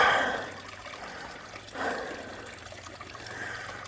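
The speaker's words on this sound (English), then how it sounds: "little waterfall." Small waterfall spilling into a pond in a narrow desert canyon, a soft, continuous trickling and splashing heard from a short distance, fairly quiet, with slight surges in the flow.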